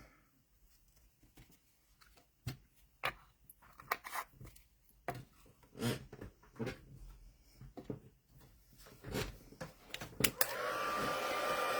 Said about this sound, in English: now we will heat emboss that.